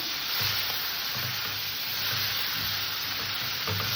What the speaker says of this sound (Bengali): চিংড়ি মাছটাকে আমি ভেজে নেবো তবে খুব কড়া ভাজবো না